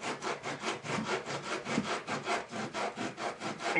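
Rapid back-and-forth scraping of 60-grit sandpaper on model railroad track, a steady rhythmic rasp of about three strokes per second, close and fairly loud with no talking.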